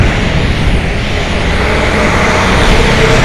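Steady, loud roadway rumble of passing truck traffic, a dense broadband engine and tire roar holding constant throughout with no clear breaks and no voices.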